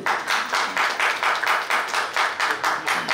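An audience claps together at a Nepali comedy event announcement, a dense, even wash of applause pulsing steadily throughout, fairly loud and close.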